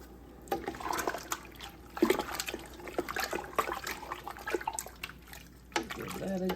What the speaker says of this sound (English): just washing my hands after handling that raw chicken